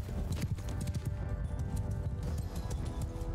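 Horses galloping in the video game Mount & Blade II: Bannerlord, a dense, continuous drumming of many hoofbeats, close and loud, with occasional faint whinnies and no talking.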